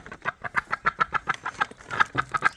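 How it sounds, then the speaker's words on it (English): A duck calling for feed on a cold morning gives a steady run of short, evenly spaced quacks, about six per second, fairly near and clear with no talk over them. "This duck wants some feed."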